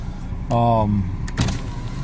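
The power window of a 2007 Suzuki SX4 runs with a short, close electric motor whine lasting under half a second, followed by a dull thunk.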